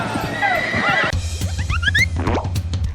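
A Sumba horse, a small savanna breed descended from Arab horses and ponies, gives a loud whinnying neigh with rising and falling squeals. Outdoor noise and hoof clops accompany it.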